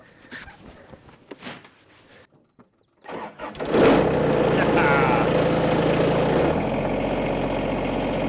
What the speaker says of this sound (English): time to get the Kubota fired up for the first time this year